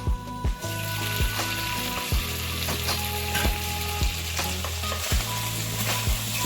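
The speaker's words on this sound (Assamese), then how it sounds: "এতিয়া আকৌ মই লৰাই দিছোঁ" Chicken cooks in a frying pan over low gas with a constant loud sizzle. A utensil scrapes through it in a regular rhythm, about one stroke every half second, close up with no talking.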